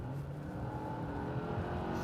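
A Mercedes E-Class AMG in sport mode holds a raised, throaty engine note with a steady tone that swells slightly as the throttle opens. It sounds close and moderately loud, with no talk over it.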